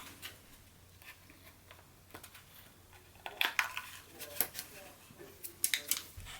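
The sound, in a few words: scissors cutting expanding spray foam skull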